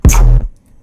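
A distorted tearout bass synth patch built from a fart sample sounds one loud, thick, gritty note lasting under half a second before cutting off into near silence.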